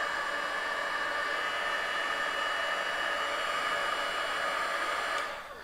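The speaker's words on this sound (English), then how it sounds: "So here is my, embossing heat gun." An embossing heat gun heating clear embossing powder blows with a steady, loud, hissing whoosh like a hair dryer for about five seconds, then cuts off abruptly near the end.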